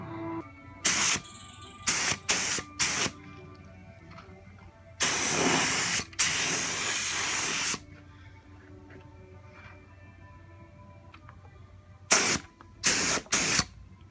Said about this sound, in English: I'm going to apply extra primer to the seam sealer just to make sure it's getting in there